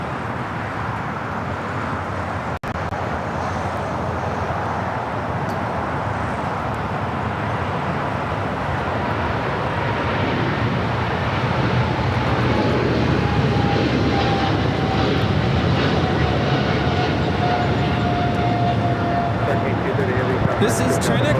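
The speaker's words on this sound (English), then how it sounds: "This is China Cargo Airlines 230 taking off to Shenzhen on the 777 freighter" A China Cargo Airlines Boeing 777 freighter takes off at LAX, a loud sustained engine roar that builds and holds with a rising whine, while people talk faintly over it.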